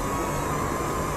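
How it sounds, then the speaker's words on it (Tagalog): A mini drone's coreless motors give a steady, high-pitched whine, constant and fairly loud throughout, with broadband hiss and no other sounds. "Yung motor niya nga pala guys is coreless, kaya kung makikita nyo yung tunog niya medyo matining."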